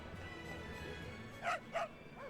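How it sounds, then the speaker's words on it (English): Dogs in the Tales of Berseria video game give two quick yipping barks in close succession, fairly faint over a low game background with no talk. "Oh, and it's more dogs."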